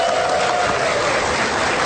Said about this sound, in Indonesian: tepuk tangan dulu dong buat mereka yang di sini